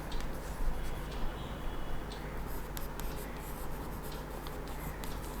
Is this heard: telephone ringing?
no